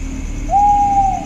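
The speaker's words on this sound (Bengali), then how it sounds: "তখন বাইরের জঙ্গল থেকে সতীশ শুনতে পেল চংড়ি, প্যাঁচা আর শেয়ালের ডাক।" A single owl hoots once from the night jungle in cold North Bengal: a steady, clear, drawn-out call over a low background rumble.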